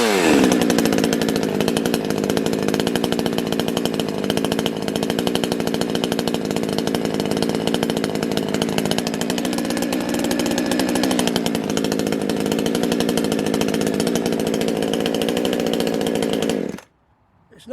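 A Chinese X-Bull 52cc gas chainsaw runs loud and close, its two-stroke engine held at a high steady whine with slight dips in pitch, before cutting off abruptly near the end.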